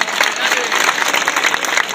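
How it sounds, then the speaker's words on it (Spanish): Crowd applause at a football kit launch event held at a shopping centre, dense loud clapping from many people for a couple of seconds with some voices mixed in. "Vamos a darles un aplauso"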